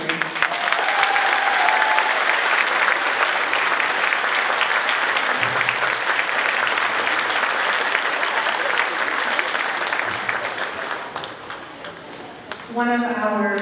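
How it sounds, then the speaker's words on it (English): An audience at a strings festival applauds fifth grade string players in a full, continuous ovation that thins out toward the end before a voice begins speaking. "please give it one more round of applause for the fifth grade"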